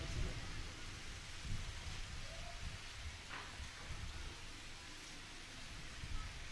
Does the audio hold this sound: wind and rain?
yes